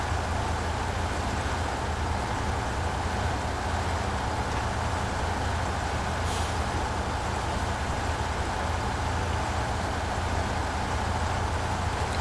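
A truck in the Snowrunner video game drives off-road with a steady, loud engine drone and broadband rumble that holds unchanged, with one brief high-pitched scrape midway.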